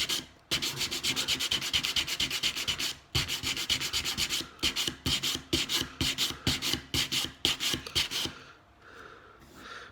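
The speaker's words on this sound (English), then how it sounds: "a bit more sanding and it'll be fine." Hand sanding of wooden shelf pieces produces rapid, rhythmic back-and-forth scrubbing strokes, close and steady, pausing briefly once before continuing and then slowing to a stop.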